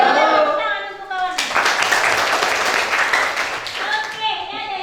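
Clapping from a classroom of students, applauding a classmate, erupts after brief talk and holds as a dense, fairly loud burst for about two and a half seconds before speech returns.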